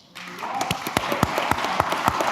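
Audience clapping at a healthcare panel discussion, a scattering of sharp claps over a steady crowd murmur with some background talk.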